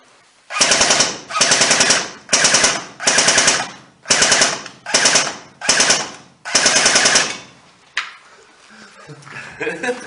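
Airsoft submachine gun firing on full auto in eight sharp, loud bursts of rapid shots, each about half a second long with short gaps between them, followed by faint background voices and movement.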